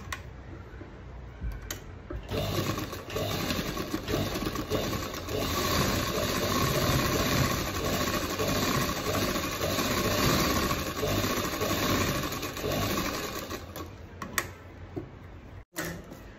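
A sewing machine running steadily as it stitches straight quarter-inch lines on a Paithani saree border blouse, a continuous close mechanical whir with a brief stop near the end.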